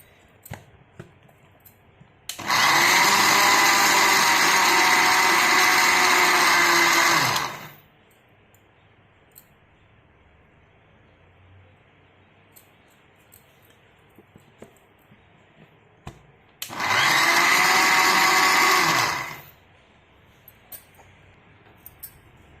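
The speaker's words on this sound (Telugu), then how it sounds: "కొన్ని వెల్లుల్లి రెబ్బలు వేసుకొని మిక్సీ పట్టుకోవాలి." A mixer grinder whirs loudly in two bursts while grinding garlic cloves into a curry leaf spice powder, a long run of about five seconds and a shorter one, with quiet pauses between.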